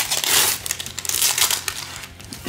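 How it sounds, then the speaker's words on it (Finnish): A paper-wrapped Star Wars Unlimited trading card pack is torn open and crinkled by hand, with steady, close, rustling paper crackle running throughout and no talk. "Huomatkaa, paperiset kääreet."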